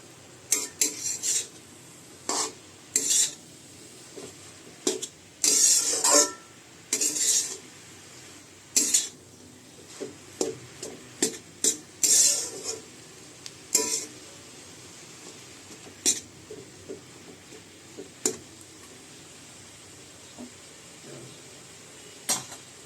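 A spoon stirring spinach with salt in a pan, giving a series of irregular metallic scrapes and clinks against the pan over a soft background sizzle, with no talking.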